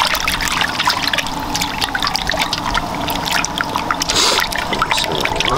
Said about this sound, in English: Then you just gotta wash, all right?